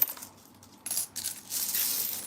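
Metal coins clinking and jingling as they are handled while a piggy bank is emptied, close and fairly quiet, in short rattling bursts with no talk.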